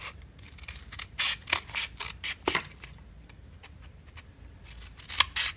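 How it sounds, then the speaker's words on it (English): Scissors cut through a piece of cardboard, a series of close, crisp snipping and crunching strokes in uneven bursts with short pauses, heard alone without talk. "cut the piece cardboard to the size you want"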